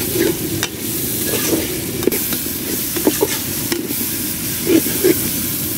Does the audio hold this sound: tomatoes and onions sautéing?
yes